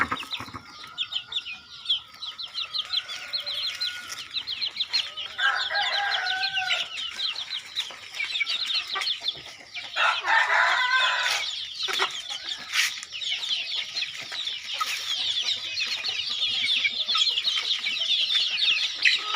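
Chickens cluck steadily with dense, overlapping calls from a flock, and a rooster crows partway through, all fairly close and continuous.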